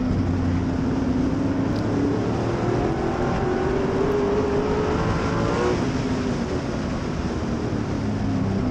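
Modified stock race cars roar around the Redwood Acres Raceway oval, a continuous loud drone of several engines with rising and falling pitch as they pass, steady throughout with no voices.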